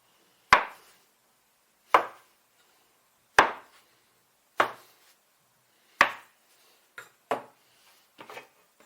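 Pork and cabbage baozi bun dough being portioned into small pieces with a knife on a board, giving sharp, close chops: about five evenly spaced heavy strikes, then a quicker cluster of lighter ones, with no talking.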